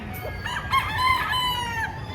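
A gamefarm rooster crows once in a drawn-out call over a steady low rumble of background noise, with other fowl faintly present.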